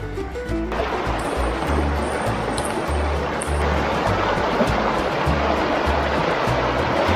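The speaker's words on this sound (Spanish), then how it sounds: "voy por un poco de agua al arroyo que se forma con el deshielo que viene del glaciar." Glacier meltwater stream in Denali, Alaska, flowing steadily: a dense, close rushing wash of water that stays full and even throughout, with a low rumble underneath and no talk.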